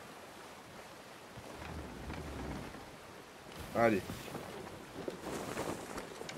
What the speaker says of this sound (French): Entendre le vent toute la journée, ça doit être horrible.